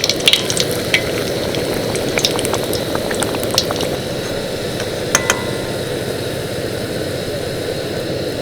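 Malpua batter fries in hot white oil in a kadai with a loud, dense, continuous sizzle, close up, and scattered crackles and bubbling pops over a low steady rumble, with no talking.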